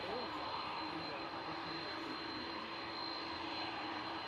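An airliner departing Manchester Airport for Orlando gives off a steady, distant jet roar with a thin high whine riding on top, and talk is faintly present beneath the engine noise.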